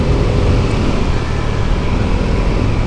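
Steady, loud rumble of a Vespa 300 GTS scooter ridden along city streets, with engine drone, road and wind noise continuous throughout and no talking.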